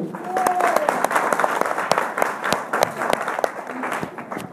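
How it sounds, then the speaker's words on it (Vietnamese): Hall audience breaks into sustained applause, a dense, loud patter of many hands clapping steadily throughout. "Một tràng vỗ tay dành cho chúng ta đi ạ"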